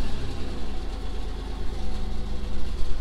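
Chevrolet Tahoe engine idling just after starting up, a steady close low rumble with slight unevenness and no talking.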